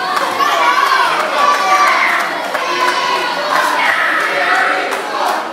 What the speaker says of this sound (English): Crowd getting behind Andd Bivians as he's about to square off here against CB4's Bubba.